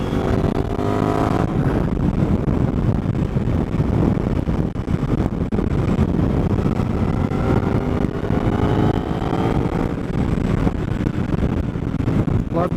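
A Suzuki DL-800 V-Strom or Indian FTR 1200 motorcycle on the move gives a loud, continuous engine drone with heavy wind rush over the microphone throughout.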